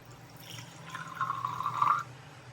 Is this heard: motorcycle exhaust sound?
no